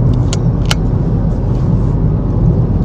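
A car cruises along with a steady, loud engine and road rumble, a couple of short light clinks or rattles near the start, and no speech.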